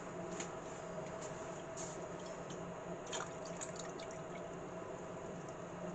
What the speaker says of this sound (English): I'm going to add a little bit more water because it's not completely covered